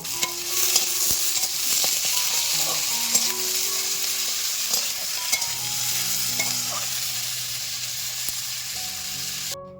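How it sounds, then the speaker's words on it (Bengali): Potatoes frying in hot mustard oil with dried chillies, stirred in the pan: a dense, even sizzle close up with light scraping and clinks from the spoon, continuous throughout. "আলুটা দেওয়ার পর একটু নাড়াচাড়া করব।"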